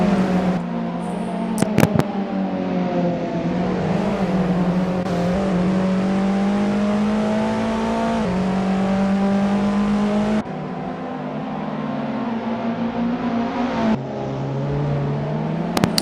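Touring cars racing on a technical UK circuit, engines whining at high revs in a steady loud drone that shifts pitch through gear changes, with brief sharp clicks and no commentary over it.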